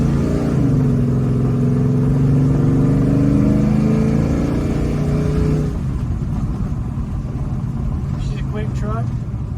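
A 1978 Chevrolet C10 pickup truck pulls away and accelerates, its engine note rising steadily for several seconds, then easing off as the revs drop; steady road and cabin noise continues throughout.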